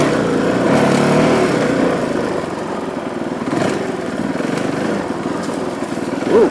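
A Honda CRF450L motorcycle ridden in first gear along a trail, its engine droning steadily and close with small rises and falls in revs.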